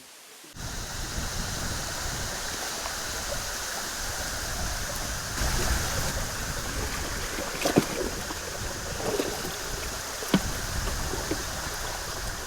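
Water kept flowing and rolling, a steady broadband rush like a stream, close and continuous from start to finish with a few faint knocks mixed in.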